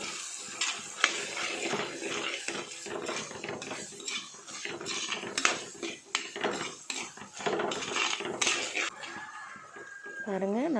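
Spices and ground masala for kara kuzhambu are stirred in a pan, with a ladle clinking and scraping against the metal in a steady run of clatters while a voice talks over it.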